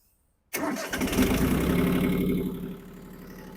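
A Yanmar F165 mini tractor's diesel engine starts on a cold day: a brief crank catches at once into a loud, rough clattering idle that settles slightly lower, close up and alone.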